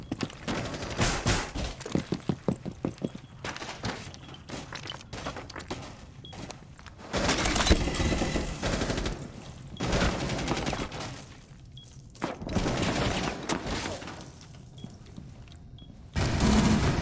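Rapid bursts of gunfire in a first-person shooter video game, with repeated volleys and sharp shots across the whole span, some louder blasts standing out, plus faint footsteps between bursts.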